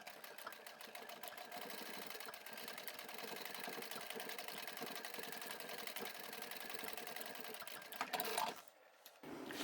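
Sewing machine triple stitching across the end of a small vinyl zippered boxy bag, a continuous fast rattling whir held for about eight seconds before cutting off abruptly, followed by a moment of handling noise.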